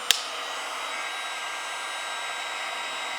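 A cordless blower on its high setting hums as a steady, smooth fan whir after a brief click at the start, holding an even pitch throughout with no voices.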